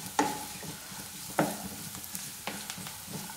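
A spoon scrapes and stirs turmeric powder through onions frying in a pan, giving a few distinct clinks and scrapes over a soft, steady sizzle, close by and without any voices.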